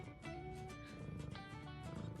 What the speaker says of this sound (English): Okay, those purrs.